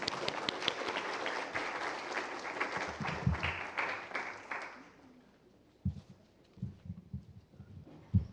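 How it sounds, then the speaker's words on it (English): An audience at an app showcase applauds for about five seconds, the clapping fading out, followed by a few scattered knocks and thumps. "So please give her a round of applause."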